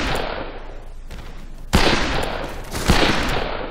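Gunshots in the Western shooter Fistful of Frags: loud, sustained firing with two sharp, heavy blasts standing out about a second apart, close and without talk.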